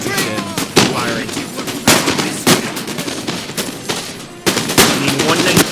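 Musket volleys from King's German Legion infantry in a Napoleon: Total War battle in Spain, loud crackling bursts of overlapping shots that repeat in uneven waves over a rumbling battlefield din.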